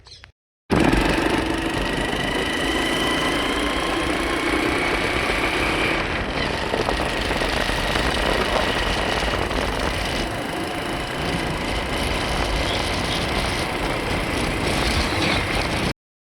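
A motorcycle engine running on a town road while riding home, a loud, steady drone that starts abruptly after a brief quiet moment and continues almost unchanged to the end, with no talking over it.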